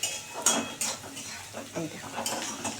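Vegetables (beans, carrots, potatoes and onions) frying in a pan for egg chowmein, with a metal spoon scraping and clinking against the pan in irregular strokes over a faint sizzle.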